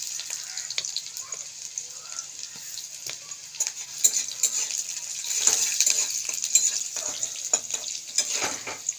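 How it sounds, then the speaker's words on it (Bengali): Chopped onion and garlic with salt fry in oil for a taro, potato and prawn curry, making a steady hissing sizzle with irregular stirring clicks and scrapes that grow busier toward the end. "তেলের মধ্যে এটা আমি ভেজে নিচ্ছি। এর মধ্যে আবার দিচ্ছি আমি লবণ।"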